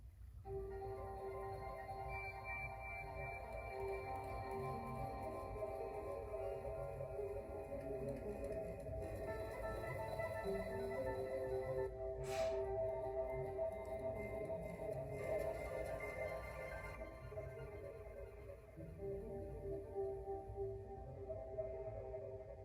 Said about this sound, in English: I use pieces of the banjo